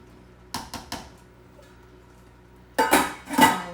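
Metal pot lid set onto a simmering pot of chili, a few quick clanks early on, then a louder rattling clatter of lid against pot near the end, close and otherwise quiet.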